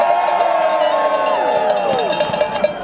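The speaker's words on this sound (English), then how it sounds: "Give yourself a round of applause." A large outdoor crowd at a Groundhog Day gathering cheers and whoops in a loud, continuous roar, with rising and falling shouted voices layered over the din and some clapping mixed in.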